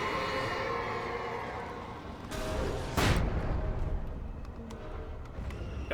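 Flashbang grenade going off in the Alan Wake video game: a sharp bright burst rising out of a dark, rumbling ambience, one loud close blast that rings briefly and then fades back into the low background.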